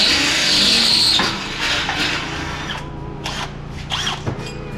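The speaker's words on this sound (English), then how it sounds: "It's a test of Harbor Freight's drills right here." A Harbor Freight power drill bores steadily at close range, its high whine loudest at the start and then running on with a few uneven surges as the load shifts.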